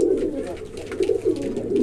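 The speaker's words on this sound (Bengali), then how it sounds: "বিশাল বিশাল পোটার কবুতর" Large pouter pigeons coo in low, throaty, repeated rolls, close and fairly loud, pulsing steadily with no pause.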